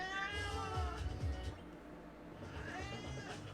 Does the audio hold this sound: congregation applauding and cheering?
no